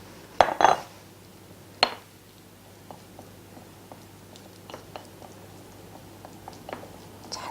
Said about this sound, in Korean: 한 번에 우리가 양념을 섞어 보아요.